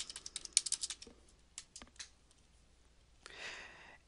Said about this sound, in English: type in your library card number